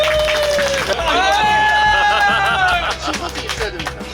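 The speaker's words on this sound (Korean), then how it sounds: "자 박수." Applause and cheering rise from a crowd at an outdoor national fishing contest, steady dense clapping mixed with voices and a few melodic vocal tones, loud and continuous throughout.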